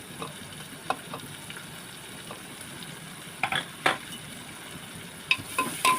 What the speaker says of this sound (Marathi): कांदा तेलामध्ये परतून घ्यायचं व्यवस्थित